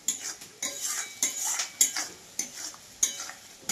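Fish fries in a pan with a steady sizzle, under repeated rhythmic scrapes and clinks of a metal spatula stirring against the pan, close and regular, about every half second.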